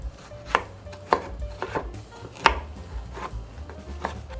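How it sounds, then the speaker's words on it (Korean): A knife chops a tomato into small pieces on a cutting board, about eight crisp knocks in an even rhythm, close and fairly quiet with no talking. "토마토 하나는 작은 한입 크기로 썰어주겠습니다"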